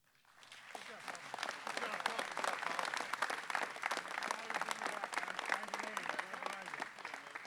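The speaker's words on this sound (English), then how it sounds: "Let's give a big round of applause for this great team, all the inductees tonight." An audience claps at a sports hall of fame induction ceremony, the applause swelling in after a brief quiet start and holding steady and full, with faint voices mixed in beneath.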